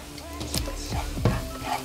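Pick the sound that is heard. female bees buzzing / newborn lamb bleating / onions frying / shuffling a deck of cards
onions frying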